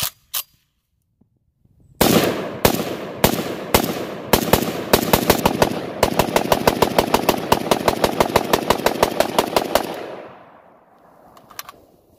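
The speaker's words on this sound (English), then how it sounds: "we're continuing testing today with the Icon Weapons G223 Micro Galil pistol" Icon Weapons G223 Micro Galil pistol firing outdoors, a few single loud shots that speed into a long rapid string of sharp cracks, then a fading echo and faint later clatter.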